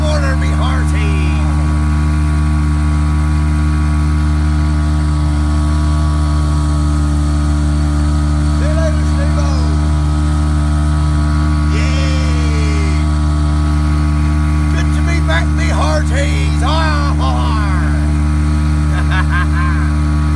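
An outboard engine on an old gaff cutter runs after a pull start, a loud steady drone with a constant hum, as someone speaks briefly over it.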